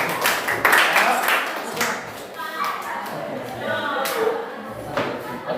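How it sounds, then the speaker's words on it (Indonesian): Scattered clapping from a classroom audience applauding a student, uneven and moderately close, with people talking over and between the claps. "Tepuk tangan dulu sama Masa Kelurahan"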